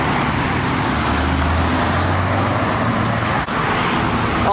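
Steady, loud freeway traffic roar from cars and trucks fills the scene continuously, with a heavier low rumble of passing vehicles and no clear talk.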